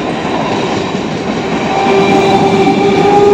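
A train runs past at Arambagh station beside a limited-height subway, giving a loud, close, steady rumble that swells toward the end, with thin metallic wheel squeal tones drawn out above it.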